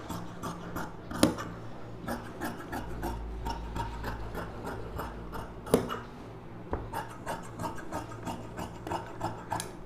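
Scissors cutting through silk saree fabric to shape a star-neck blouse, heard as close, soft rasping snips and rubbing in an irregular rhythm with a few sharper clicks, alone with no talk.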